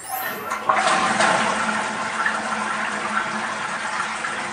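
A normal water-closet toilet flushes in a sudden rushing burst of water that settles into a steady, close gurgling wash as the bowl drains and refills.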